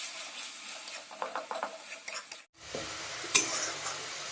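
Ginger garlic paste frying with browned onions in a pan for a home-style chicken curry: a steady oily sizzle with scraping stir strokes and light utensil clinks, a brief drop-out midway, then continued frying.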